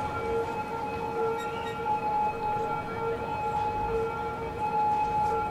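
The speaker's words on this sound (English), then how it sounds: "Look at all the ambulances and stuff that just can't move." Ambulance sirens wail without a break in a gridlocked traffic jam in Cities: Skylines, several overlapping tones holding steady over a dense hum of traffic.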